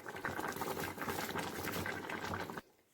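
A pot of potato and vegetable curry with fish bubbles at a steady close boil with dense gurgling, then cuts off abruptly near the end.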